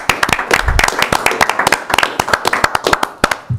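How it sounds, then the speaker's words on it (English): Attendees at a village board meeting clapping, a modest group of nearby hands producing sharp, uneven claps that continue steadily for several seconds. "Let's clap one more time."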